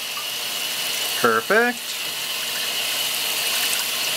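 Tap water runs steadily in a wort-cooling setup during home brewing, a continuous close hiss and gush throughout, with one brief spoken word midway over the flow.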